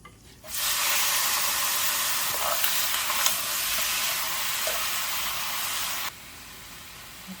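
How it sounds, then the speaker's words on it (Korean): Raw webfoot octopus (jukkumi) stir-frying in a hot pan, with a loud, even sizzle that bursts in suddenly, holds for about five seconds with faint scraping, then drops away sharply. "근데 저는 데치지 않고 이렇게 그냥 볶을 거예요"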